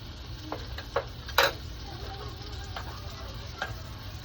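Garlic and bacon grease sizzling in a pan for garlic bread, a soft, steady frying hiss under a few light clicks and taps of a utensil, fairly quiet and close, with no talk.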